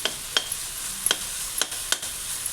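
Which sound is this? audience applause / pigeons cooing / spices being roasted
spices being roasted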